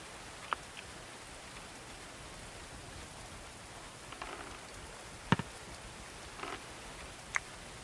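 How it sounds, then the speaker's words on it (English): Rain falls in the medieval colony-building game Going Medieval, a steady soft wash of noise with a few faint scattered clicks and patters, no voices. "Look, it's raining."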